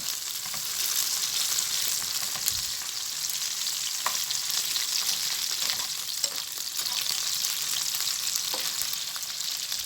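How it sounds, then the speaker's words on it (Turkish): Mixed peppers frying in hot oil in a pan, a steady bright sizzle and crackle with occasional pops and stirring taps, close and continuous throughout. "Biberlerimi kızartıyorum arkadaşlar. Şimdi biberlerim kızarıyor."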